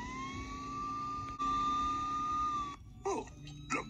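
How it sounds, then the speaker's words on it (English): An ambulance siren holds a long steady wailing tone that breaks off near the end, followed by a few short chirps, heard faintly against low background noise. "Oh, look, an ambulance."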